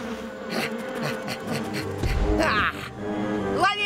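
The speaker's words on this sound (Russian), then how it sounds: "Ловите пчелки!" Cartoon bees buzz in a bright, wavering drone with rising and falling pitch, mixed with playful music and brief character sounds over nearly four seconds.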